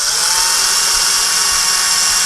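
A loud, continuous, high-pitched power drill whir, close by and unbroken, drilling slowly into drywall.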